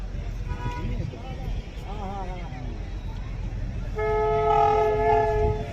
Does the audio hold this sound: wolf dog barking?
no